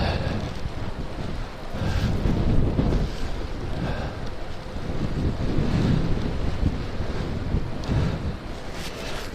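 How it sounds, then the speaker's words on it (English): A southwesterly breeze buffets the microphone on a countryside bike ride at about six degrees, a loud, continuous roaring rumble with gusts rising and falling throughout, with no talking. "There's a reasonable southwesterly breeze blowing"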